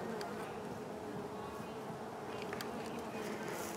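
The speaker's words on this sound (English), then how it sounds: "So that's half the bees on the floor." A dense, continuous buzz of an absconding honey bee swarm in winter hums steadily throughout at moderate volume, with faint clicks and movement in the background.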